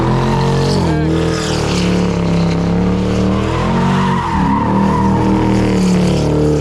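An R34 Nissan Skyline does a burnout, its engine roaring steadily as the tires spin and squeal loudly and continuously, while people talk over the noise.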